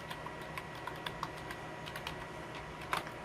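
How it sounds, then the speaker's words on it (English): Quiet computer keyboard typing for a message in Microsoft Outlook, a steady patter of light key clicks with one small cluster of louder taps near the end, soft and close with a faint background hiss. "and then you can type the message"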